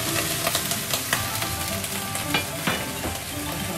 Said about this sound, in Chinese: 油热了啊，我们把它炝炝锅，搁点姜，搁点腊八蒜